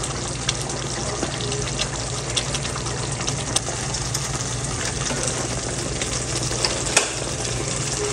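Peshawari charsi chicken karahi frying in oil, a steady dense sizzle with small crackles and pops throughout, close and continuous.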